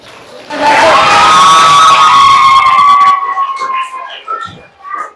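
Classroom of students cheering and shouting together in a loud, sustained burst close by, then fading into scattered clapping and chatter.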